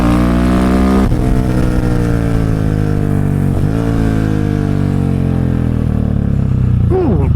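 A Husqvarna 701 motorcycle engine runs loud and close, its pitch sagging gradually across several seconds as it slows, with sharp shifts in tone near the start, midway and near the end.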